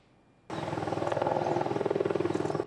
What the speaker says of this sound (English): An Apache attack helicopter touches down on the grounds of Taiwan's National Defense University